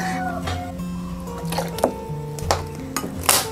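A spoon stirs a mild chili sauce of long red chilies thinned with a little water in a pan, giving soft clinks and scrapes against the metal with occasional sharper knocks over steady background music.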